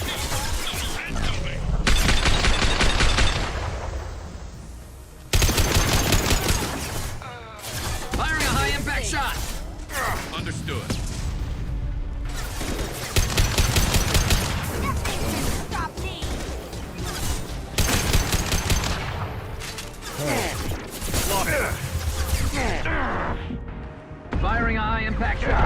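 Heavy gunfire and crashing impacts during Mass Effect 2 combat, loud repeated bursts with brief gaps, mixed with talk throughout.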